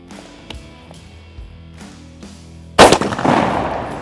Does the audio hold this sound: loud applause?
no